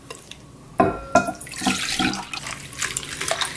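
Salted radish is rinsed under a running kitchen tap, with water splashing steadily into a sink and a few sharp knocks as the pieces are handled nearby.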